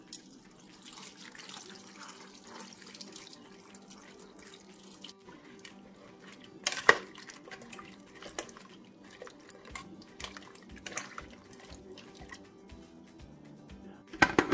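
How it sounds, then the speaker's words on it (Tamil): Water pours from a tap into a pressure cooker for sambar in a home kitchen, a faint, thin trickle and splashing with a louder burst midway and soft drips and taps toward the end. "லாஸ்ட்டாக கொஞ்சம் தண்ணி சேர்க்குறேன்"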